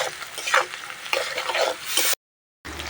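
Ground spice paste hitting a pan of frying onions and green chillies gives a close, crackling sizzle with stirring scrapes, broken by a short silent gap before the frying resumes.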